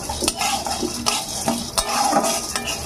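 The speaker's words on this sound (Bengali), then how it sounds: "এবারে বাদাম আর বুটের ডালের সঙ্গে ভেজে নেব।" Peanuts and chana dal fry with broken green chillies in a pan, a utensil scraping and clinking in repeated stirring strokes over a soft, steady sizzle, with no talking.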